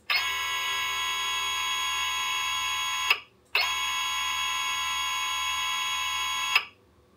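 A rewired drone motor B spins up during a home bench test, producing two sustained, bright, high-pitched whines of about three seconds each, separated by a brief pause, with no talking over them.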